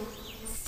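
A bee's buzzing drone, the insect flying close by for a brief moment in a children's story, a steady hum that swells louder at the very end.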